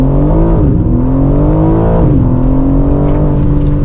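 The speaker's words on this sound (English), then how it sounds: "my favorite thing about this car is we have launch control" A 2025 BMW M3 xDrive Competition roars hard under launch-control acceleration, its loud engine note climbing steadily in pitch with a brief dip as it shifts, close and continuous.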